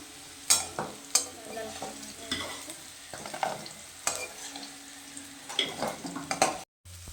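Fried beans stirred and scooped from a pan, repeated scraping clinks of a spatula against metal over a faint sizzle, in close, irregular strokes.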